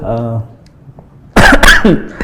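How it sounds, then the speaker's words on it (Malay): A short vocal sound, then a loud burst of coughing, two or three harsh coughs close to the microphone. "Nak terbatuk banyak orang."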